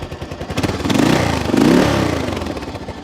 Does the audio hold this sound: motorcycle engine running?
yes